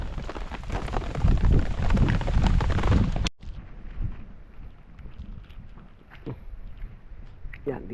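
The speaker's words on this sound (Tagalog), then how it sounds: "Ulan." Heavy rain pours down loudly as a dense, steady hiss for a few seconds, then cuts to a quieter outdoor scene where a person speaks and softer rustling continues.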